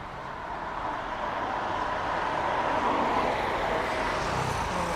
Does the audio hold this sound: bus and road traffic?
yes